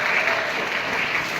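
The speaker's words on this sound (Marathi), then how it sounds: "जोरदार टाळ्या" Strong applause from an audience at a social awareness lecture, a brief, steady burst of dense clapping.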